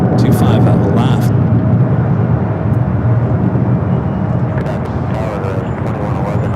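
An airplane rolling down runway 25 left at LAX, a broad continuous roar of engine and rolling noise at steady loudness, with a few short bright bursts at the start and near the end.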